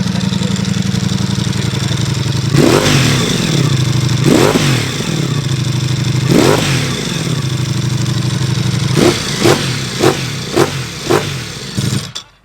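A Ducati Multistrada V4 with a loud aftermarket exhaust idles with a deep burble, then is revved in three long sweeps followed by a rapid series of sharp, short blips, close and loud.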